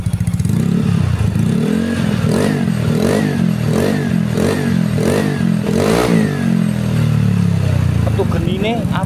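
Vespa Sprint scooter with a bore-up engine and SKR racing exhaust revved in a series of rhythmic throttle blips over a raspy, rattling idle, loud and close.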